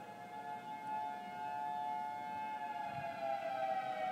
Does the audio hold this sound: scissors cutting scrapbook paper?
no